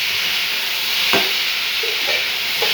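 Potatoes and onions fry in a pan for kardi vaja, giving a loud, steady sizzling hiss. A few short clacks of stirring break through, and no one speaks.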